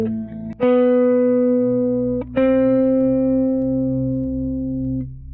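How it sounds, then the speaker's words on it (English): Guitar notes through a Kemper Profiler delay that adds a quiet octave-lower tone under the played signal, two sustained struck notes ringing out and decaying, the low layer faint beneath them. "the delay adds an octave lower to my played signal"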